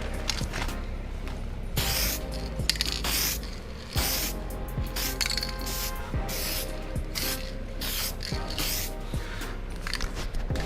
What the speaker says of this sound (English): I have some gray filler primer that I will be spraying on top of it